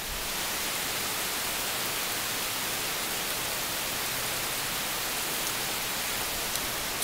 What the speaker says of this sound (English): It's raining really loud